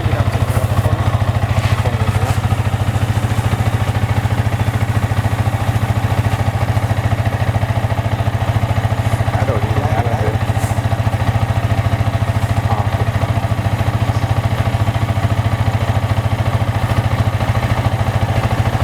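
A Yamaha R15 V3 motorcycle idles steadily and loudly close by, a constant low engine rumble running unbroken with no talking.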